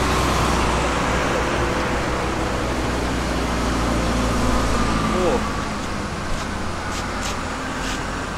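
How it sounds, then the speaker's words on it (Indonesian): Heavy trucks passing on a road during a road trip, a continuous loud rumble of traffic noise with engine drone that swells slightly as vehicles go by, close and steady throughout. "sumpah banyak banget truk yang lewat"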